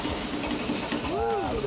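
Butter sizzles in a hot pan with a steady, close, broadband hiss throughout, and a voice speaks briefly over it.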